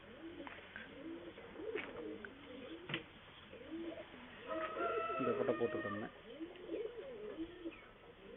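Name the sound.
pigeon cooing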